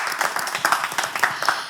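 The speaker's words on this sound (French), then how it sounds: "Des applaudissements pour tous ceux qui nous ont suivis." Scattered applause from a television show's audience, a short burst of uneven claps at moderate level.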